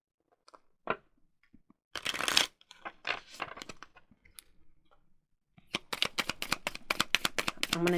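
Oracle card deck being shuffled by hand, with bursts of riffling and scattered card clicks and taps, ending in a rapid run of crisp shuffle strikes, close and without talk.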